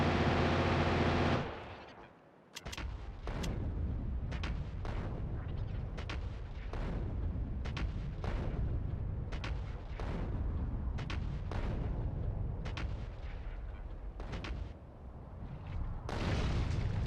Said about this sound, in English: Artillery's not good for a moving target, is it?